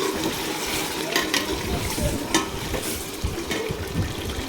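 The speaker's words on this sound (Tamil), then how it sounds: "நல்லா கறி வைக்கிற வரையும் எண்ணெயிலே வதக்கிக்கலாம்." Chicken biryani masala fries in oil while being stirred, a continuous close hiss and sizzle broken by scraping clicks from the spoon against the pan.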